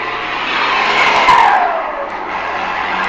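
A Ford F-250 pickup with a modified turbo pulls away with a loud, steady engine roar and a rising turbo whistle that sweeps up and fades. No one talks over it.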